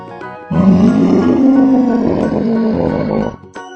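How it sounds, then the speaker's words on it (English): A loud, drawn-out dinosaur roar, a single deep growling bellow lasting about three seconds that cuts off abruptly, heard close and alone. "Dinosaur."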